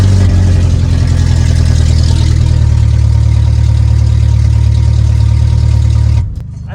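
A car engine runs steadily while jump-starting another car with a flat battery, a loud, close, low droning idle that holds for several seconds before cutting off abruptly near the end.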